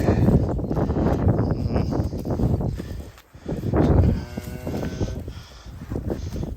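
Cattle on a farm with a dirty cow and her newborn calves, giving close, low, rough lowing and grunting calls in bursts over several seconds, with a brief quiet pause partway through.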